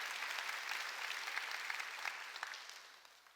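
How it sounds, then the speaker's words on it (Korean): Church congregation applauding during a Sunday worship service, a steady wash of many hands clapping at moderate loudness, fading slightly at the end. "박수를 하나님께 영광 드리라"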